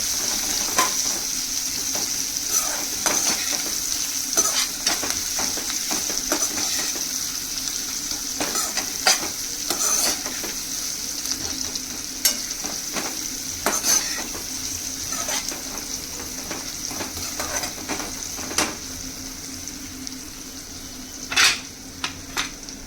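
Sliced onion frying in oil in a pan for spinach dal, a soft steady sizzle broken by sharp metal clinks of a spoon against the pan, alone without talk.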